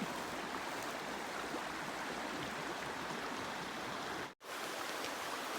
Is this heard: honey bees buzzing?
no